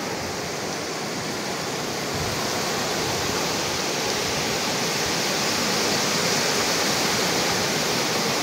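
Sea waves wash ashore at Dande beach on the Konkan coast, a steady, loud, broadband surf roar that continues without a break and with no voices.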